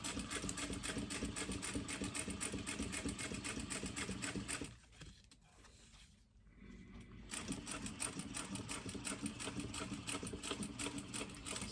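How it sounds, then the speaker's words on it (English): A sewing machine runs steadily while basting a lining onto a fabric poop bag holder with a 1/8 inch seam allowance and a lengthened stitch. The motor whirs continuously, drops out briefly midway, then resumes. "I'm only basting this on."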